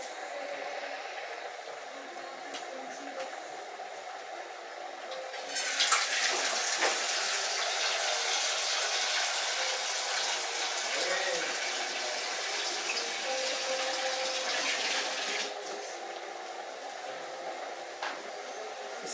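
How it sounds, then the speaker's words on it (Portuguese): A kitchen tap in a Brazilian home pours water into a cooking pot during lunch preparation: a steady, full gush that starts a few seconds in, runs for about ten seconds, then cuts off, leaving quiet room tone. "Vou deixar ele aqui botar mais água."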